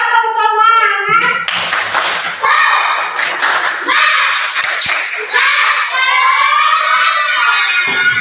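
A classroom group claps in quick rhythmic bursts while children and a teacher chant along, with loud, close voices over the repeated clapping pattern.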